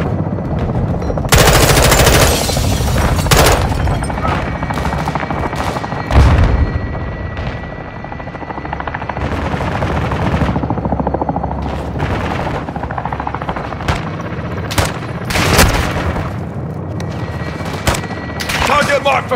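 Helicopter gunfire from the Call of Duty: Modern Warfare 2 campaign: sustained machine-gun bursts and booming impacts over a steady rotor drone, loud and dense throughout, with radio voices talking underneath.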